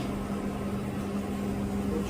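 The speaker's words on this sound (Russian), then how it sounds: "Кипит наш шурба." Tajik shurpa with lamb boiling in a pot, giving a steady, continuous bubbling simmer with a low hum underneath, close and even throughout.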